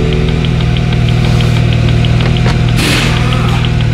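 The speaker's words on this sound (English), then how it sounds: "Let me start the car." A 2017 BMW 330i xDrive with an F30 body runs close up with a steady, loud idle and a rhythmic ticking knock, a brief louder burst partway through, and no talking.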